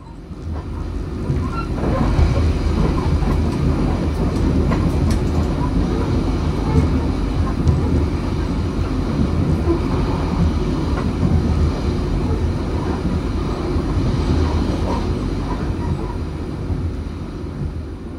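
The Brantas economy passenger train rumbles along the rails in a steady, loud interior drone with faint clatter, continuing throughout.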